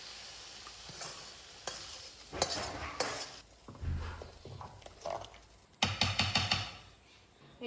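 Spiced cabbage mixture is tipped into a pan of khichuri and stirred in, with a series of close scraping, clattering and sizzling bursts, louder clanks near the end, and no talking.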